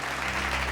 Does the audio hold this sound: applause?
yes